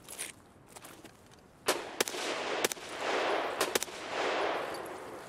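Gunfire in the shooter game Escape from Tarkov: sharp single shots cracking out at irregular intervals, followed by bursts of rolling, echoing fire that swells and lingers, fairly distant and loud.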